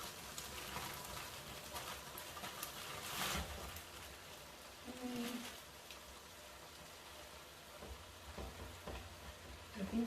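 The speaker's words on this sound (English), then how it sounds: "So we add our beans" Beans dropped into a hot pan in a home kitchen fry with a faint, steady crackling sizzle, a few louder bursts of popping and stirring scattered through, no voices over it.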